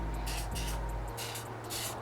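Short hissing bursts from a spray can of adhesive remover sprayed onto glue, four quick sprays in an uneven rhythm, close and fairly quiet against a low background hum.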